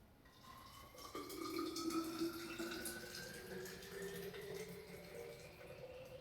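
Green juice poured into a bottle, a quiet, continuous gurgling stream whose pitch rises steadily as the bottle fills over several seconds.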